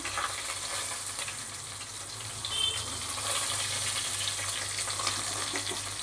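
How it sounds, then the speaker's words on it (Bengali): Tomatoes fry in hot oil alongside pointed gourd, sizzling in a loud, continuous close hiss with faint bubbling crackle and no talk. "এগুলোকে খানিকক্ষণ ভাজা করে নেব, লাল লাল করে।"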